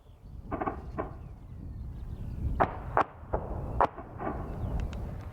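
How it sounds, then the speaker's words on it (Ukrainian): Anti-aircraft shells burst in the sky near Klishchiivka during defence against a drone, a series of sharp, fairly distant cracks and thuds spaced irregularly over a low rumbling background. "Раптом у небі неподалік починають вибухати зенітні снаряди"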